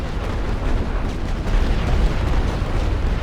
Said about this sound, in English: Bombardment isn't doing them any favours.